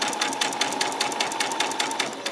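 A sewing machine runs steadily, stitching fabric for a peasant top, its needle producing a fast, even, close mechanical clatter throughout.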